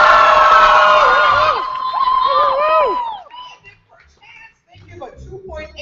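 An audience at a Louder than a Bomb Great Plains youth poetry slam cheers loudly with whoops and shouts for a few seconds, then fades to scattered voices and murmurs.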